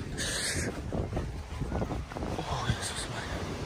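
Wind gusting across Patong Beach on Phuket, a steady rushing roar buffeting the microphone, with a voice speaking briefly over it.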